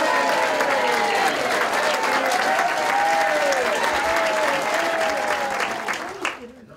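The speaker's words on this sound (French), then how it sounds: "je pense qu'on doit une bonne main d'applaudissements et plein de remerciements" Sustained applause from an indoor audience, a dense steady patter of clapping that holds evenly for several seconds before tapering off abruptly near the end.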